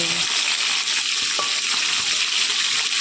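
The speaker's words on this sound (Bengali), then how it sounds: "এই যে উল্টে দিচ্ছি, তো একটু এরকম লাল লাল করে ভেজে নেব।" Meat fries loudly in a pan after being turned to brown, a dense, continuous close sizzle that stays steady throughout with no talking.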